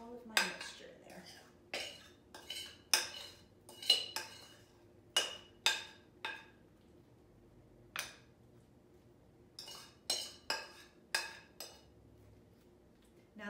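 Apple pie filling is spooned into a pie crust, producing a string of sharp, separate clinks and scrapes of a spoon against a dish at an irregular pace, close by, with no speech.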